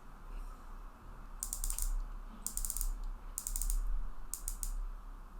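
A San Martin SN0148 dive watch bezel being turned in short bursts, four quick runs of crisp ratcheting clicks spaced about a second apart, close up over a faint background hum.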